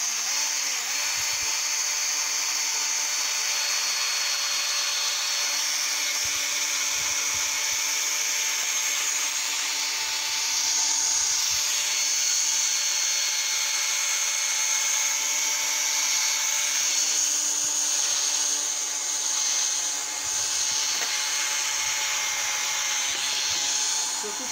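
A cordless drill spins a sanding pad with oil against a car headlight lens, making a continuous high-pitched whir that runs steadily throughout with faint scraping under it.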